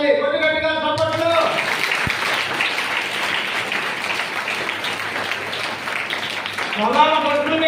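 A church congregation claps loudly in a dense, sustained burst of applause that fills the room for several seconds. A voice speaks over the clapping at the start and again at the end.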